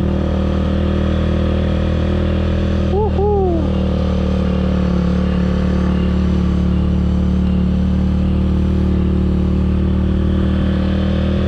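Motorcycle climbing a steep uphill road toward Mount Bromo in first gear, the engine droning loud and steady close by, with a brief rising-falling horn-like tone early on.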